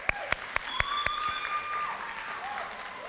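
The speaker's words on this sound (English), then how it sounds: "Let's give them an applause" Applause for teachers at a World Refugee Day celebration and graduation, a steady crowd clapping with a few sharp close claps standing out, and a brief whistle-like tone drifting over it.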